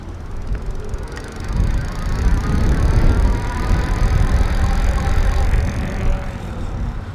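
A Pedego 20-inch Trail Tracker electric bike speeds up on its twist throttle outdoors, a loud, steady rushing drone of motor whine mixed with wind and tire noise that builds and holds.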